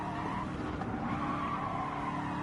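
A race car in Gran Turismo 7 skids with squealing tyres over a steady engine drone, loud and continuous, with no voices.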